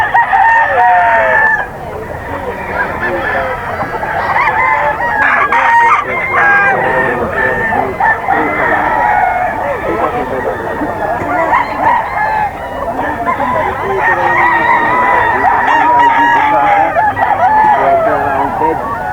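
Several roosters of a gamefowl breeder's stock crow repeatedly, with overlapping crows and clucks at different distances, loud and continuous alongside a person's voice at times.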